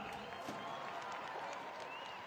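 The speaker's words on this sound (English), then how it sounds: "Let's give them a round of applause for being here for their first time." A stadium crowd at a Monster Jam event in Cleveland, Ohio claps steadily at a distance, a soft continuous patter of applause with faint background voices.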